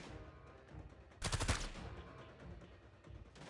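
Video game machine gun fire: a brief, loud, dense burst of rapid shots about a second long stands out over a constant busy battle rumble, with quieter noise continuing before and after.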